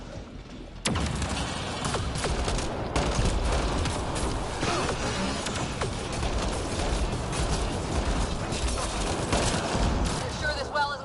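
A turret in Mass Effect fires in rapid, sustained volleys, loud sharp shots stacking into continuous gunfire for several seconds amid combat, with voices talking under it.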